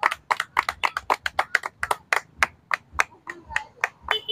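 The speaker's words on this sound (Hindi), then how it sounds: "एक बार तालियां बजा दो फटाफट" A few people clap in quick, uneven bursts at a chicken biryani eating challenge, sharp close hand claps with brief gaps between them, loud and distinct against a quiet background.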